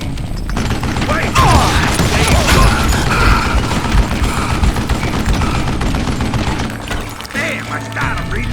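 Gunfire in the Western shooter Call of Juarez: Gunslinger, dense and loud throughout with rapid overlapping shots and mechanical clatter, voices heard beneath, easing slightly near the end.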